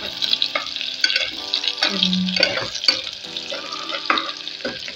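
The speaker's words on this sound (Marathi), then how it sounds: "कांदा घालून घेतलेला आहे. छान परतून घ्यायचं. गॅस लो केलेला आहे मी, म्हणजे कांदा जास्त करपायला नको." Chopped onions sauté gently in a pan over low gas for khichdi, a soft continuous sizzle with repeated close stirring and scraping, no voices.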